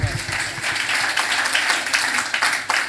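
A church congregation claps along steadily in a loud, sustained burst of applause filling the room, with dense overlapping hand claps throughout.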